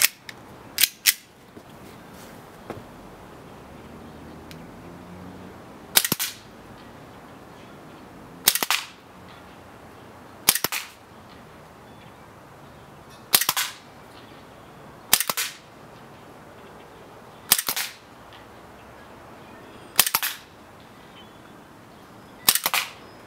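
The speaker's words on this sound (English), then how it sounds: "put a new target up, take 8 more shots and we'll compare the differences" Airsoft Glock pistol firing outdoors on a breezy day at a paper target: about eight sharp, loud snaps spaced a couple of seconds apart, with two quick shots at the very start, over faint wind.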